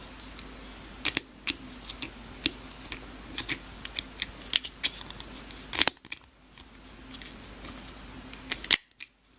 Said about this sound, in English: I'm going to get in here and I'm going to start cutting